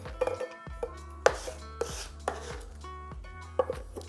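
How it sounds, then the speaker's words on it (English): Garlic chopped by hand with a knife on a board at home, a loose series of crisp, close taps and knocks at an uneven pace, separate strikes with brief scraping between them and no talking. "So I'm just chopping my garlic."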